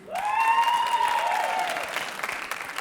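Comedy-show audience bursts into applause, clapping rising quickly and holding strong, with a sustained tonal whoop or shout over it, then thinning slightly toward the end.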